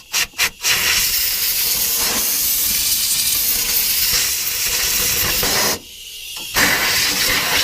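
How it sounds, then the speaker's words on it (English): Compressed air hissing steadily from a shop air hose as it blows debris clean, a few short bursts at the start, then one long continuous blast that drops out briefly before resuming, close and loud. "let me go get the air hose and clean this up"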